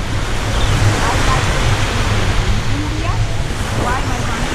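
Wind and ocean waves by the Indian Ocean sea in Mauritius, a loud continuous rushing wash with heavy wind buffeting the microphone and faint voices underneath.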